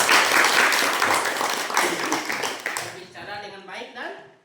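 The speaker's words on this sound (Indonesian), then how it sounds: "Tepuk tangan dulu" Applause from a school classroom during a group guidance lesson, dense clapping for about three seconds that thins out as a voice begins talking at the end.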